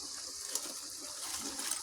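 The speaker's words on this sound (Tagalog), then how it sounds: "Lagyan ko na ng tubig guys." Water pouring into a cooking pan of stir-fried vegetables with oyster sauce, a steady soft gushing splash running continuously for a couple of seconds with no talk.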